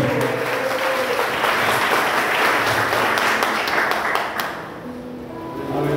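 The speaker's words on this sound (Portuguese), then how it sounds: "Aplaude Ele bem forte aí." Church congregation in Piauí, Brazil, applauds loudly and continuously, a dense roar of many hands filling the room before it trails off toward the end.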